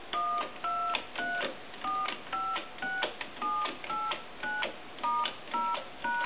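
Touch-tone dialing on a single-slot payphone handset: a quick run of about a dozen evenly spaced DTMF beeps, each short and clear, with brief gaps between them and no talking.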